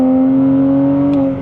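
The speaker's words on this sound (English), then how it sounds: "my aftermarket exhaust." A Porsche Cayman 987 fitted with a loud aftermarket exhaust drones at a steady engine note, heard close and loud from inside the car, easing off near the end.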